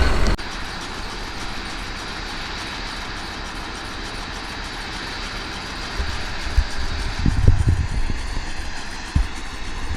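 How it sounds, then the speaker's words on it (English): Heavy delimber machine running at a logging site, a steady mechanical engine drone throughout with louder thumping, clanking bursts in the later seconds. "But that delaminator sounds mean."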